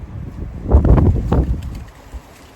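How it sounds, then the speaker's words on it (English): Strong wind blows outdoors and buffets the microphone with loud, low rumbling gusts that swell in the middle and then ease off. "I hate being out here in this wind"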